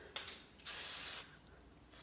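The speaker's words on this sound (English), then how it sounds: "you can just use a little hairspray" Hairspray misted from an aerosol can onto a spoolie brush for setting eyebrows: a steady hiss of about half a second, plus shorter faint puffs before and after, close up with no talk.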